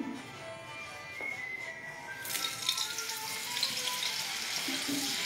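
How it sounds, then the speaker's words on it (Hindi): One tablespoon of olive oil and one tablespoon of Amul butter sizzle in a home kitchen pan, a steady close frying hiss that swells partway through, with no talking. "यहाँ पे मैंने 1 टेबलस्पून ऑलिव ऑयल डाला था और यहीं पे मैं 1 टेबलस्पून अमूल का बटर भी डाल रही हूँ"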